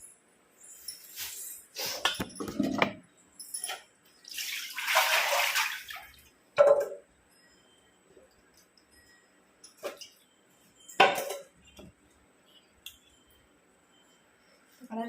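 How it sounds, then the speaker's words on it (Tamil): River fish being washed with salt in water, heard as close, intermittent bursts of splashing and sloshing in a vessel separated by quiet pauses. "அடுத்து போயிட்டு உப்பு போட்டு மீன் அலச வேண்டியது தான்."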